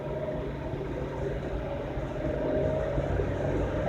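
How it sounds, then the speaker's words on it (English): A 2002 Chevy Tracker ZR2 idles with the hood raised, a steady low engine hum and drone, fairly close and unchanging, with no talking. "I'll raise the hood and let you guys hear the engine noise."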